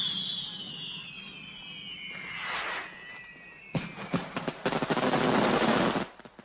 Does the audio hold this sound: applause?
no